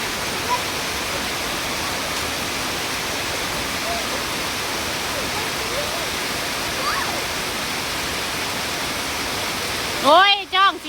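Very heavy rain pours down in a dense, steady roar, loud and unbroken throughout, with a short burst of voices near the end.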